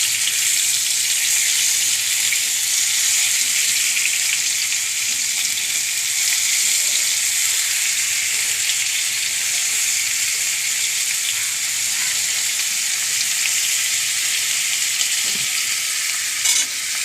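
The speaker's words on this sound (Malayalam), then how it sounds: "നമ്മുടെ മീൻ വറുത്ത് കഴിഞ്ഞു, മൊരിഞ്ഞു" Loud, continuous crackling sizzle of mackerel frying crisp in hot oil, steady throughout with no voices.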